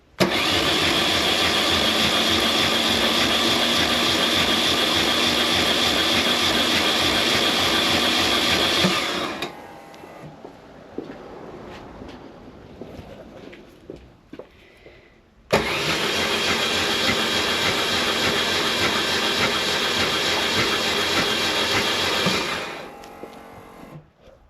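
BMW R1100S motorcycle engine cranking over with the spark plugs out, two long, loud, steady bursts of churning mechanical noise separated by a quieter pause, close up with no talking.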